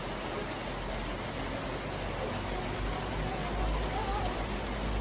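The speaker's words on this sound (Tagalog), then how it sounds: "Pumapatak na naman ang ulan." Steady rain falls in a dense, even hiss, with drops pattering on a surface throughout.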